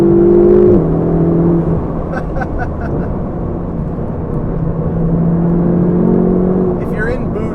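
A Ferrari 488 GTB's engine drones loudly and steadily, with shifting tones suggesting acceleration, under ongoing road and cabin noise; a person is talking over it.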